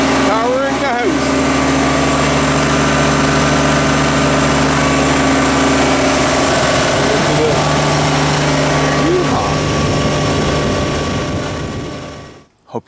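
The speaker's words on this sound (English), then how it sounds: "So I got Tigger the tractor powering the house." A tractor engine runs steadily to supply power to a house beside a wood-chip garden. It gives a loud, continuous idling drone with a low hum that holds for about twelve seconds before cutting off abruptly near the end.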